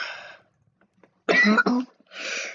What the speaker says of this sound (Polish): Sorry, że mam kaszel, ale jest zdrowy.